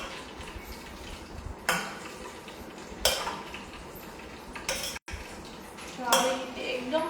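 A spoon scrapes and knocks against a pot while cooked umra (cluster figs) are mixed, a few sharp clanks standing out over a soft steady background.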